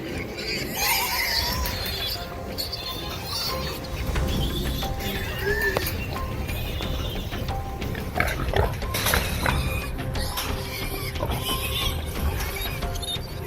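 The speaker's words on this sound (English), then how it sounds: "if the trapped pigs let out a distress call, they alert the entire area" Trapped wild boars squealing in distress, a dense, continuous din of overlapping shrill squeals and grunts that stays loud and close the whole time, with no talk over it.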